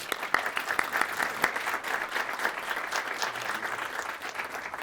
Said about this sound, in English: a little round of applause for our panelists